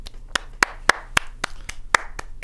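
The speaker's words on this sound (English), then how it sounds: "that applause was for nothing" A handful of sharp, evenly spaced hand claps ring out during a Formula One-themed podcast chat, about eight loud slaps at a slow, steady pace over a faint hum, with no talking.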